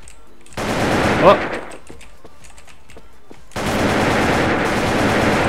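Two bursts of rapid AK-47 automatic fire in a Turkish mobile shooter game, the first short and close with a brief shout over it, the second a sustained loud volley after a quieter gap with light clicks.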